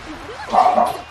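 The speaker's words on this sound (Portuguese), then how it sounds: "O cachorro torcendo pro Zuza também" A dog barks a few times close by, short yips in a quick burst over a steady background during an online Granblue fighting game tournament broadcast.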